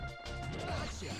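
A UFO crashes in the PS1 game Ape Escape, a brief smashing impact with broadband clatter over game music and effects, with a voice speaking over it.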